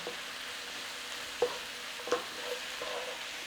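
Frozen peas are stirred into chicken à la king in a pan over a faint, steady sizzle, with a few soft scrapes and taps of the spoon standing out.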